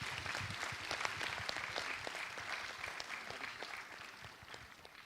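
A school audience applauds young students after a music performance, a steady, even patter of many hands heard from a moderate distance and fairly soft throughout.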